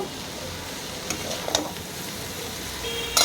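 Boiled green mung beans are stirred in a frying pan, giving a soft, low sizzle with a few sharp scrapes and clinks of the spoon against the pan.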